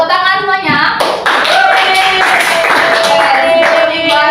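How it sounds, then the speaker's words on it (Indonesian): Primary school children clapping in a classroom, a brisk crowd of small hands heard close over a teacher's voice, with tonal voices and chatter mixed throughout the few seconds. "Tepuk tangan semuanya"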